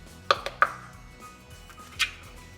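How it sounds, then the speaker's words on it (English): Pastry cutter working cold cubed unsalted butter into dry ingredients in a bowl, giving a few sharp separate clicks and taps, close and fairly quiet, with pauses in between. "we're going to use a pastry cutter to cut the cold butter into the dry ingredients"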